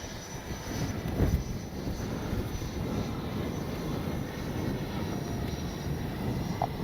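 A FlyFans Su-27 64mm EDF RC jet comes in to land, its steady ducted-fan whine and rushing roar holding at moderate distance throughout, with a brief swell partway through.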